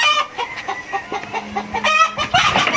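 Chickens cluck in short repeated bursts nearby, with a louder drawn-out squawk near the end over a busy farmyard background.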